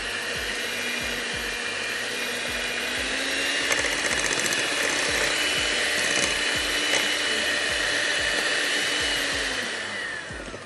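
An electric hand mixer beats sugar, butter and eggs for fruit cake batter, a steady loud whirring motor drone with the beaters clattering rhythmically against the bowl, running continuously throughout.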